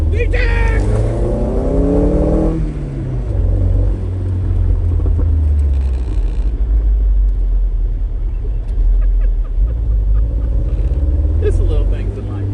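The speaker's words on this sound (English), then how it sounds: "Who would have believed that a Fiero exhaust could sound this good?" A 1987 Pontiac Fiero GT with a swapped Honda K20 engine revs hard through its exhaust, a sharp rising climb into VTEC early on, then settles into a loud, deep, steady rumble close by.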